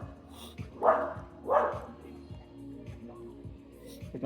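A dog barks twice, close and fairly loud, then a low rhythmic hum continues with faint background sound.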